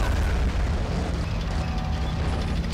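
Cannon shells exploding in the Army Men of War battle game, with dense, continuous rumbling booms and blasts filling the scene, loud and without any talk.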